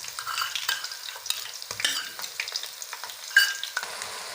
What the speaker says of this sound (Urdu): لہسن ادرک کا پیسٹ ڈالنے کے بعد 2 منٹ تک بھونیں گے اس کو